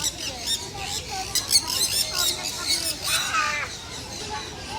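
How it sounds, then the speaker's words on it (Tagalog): A bird gives several harsh, cawing calls in quick succession, fairly close, against a noisy background. "Nagulat na ibon."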